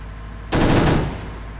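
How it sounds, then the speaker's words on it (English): A heavy machine gun in the tank video game Arms Trade Tycoon Tanks fires one loud, close burst of rapid shots lasting about half a second. A short rumbling tail follows. "Just a heavy machine gun, I guess."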